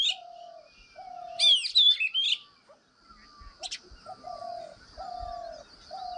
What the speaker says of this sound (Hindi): बहुत सारी चिड़ियाँ हैं हमारे बगीचे के आसपास और उनमें से आज ये मुझे कुछ नई दिखाई दे रही।